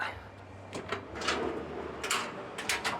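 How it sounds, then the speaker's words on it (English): A few sharp wooden clunks and slides, like a large trundle drawer being pushed shut and locking, in an aluminum storage setup on a 2022 Toyota Hilux SR5, spaced over a few seconds. "through the trundle drawer, which you can just lock him up like that."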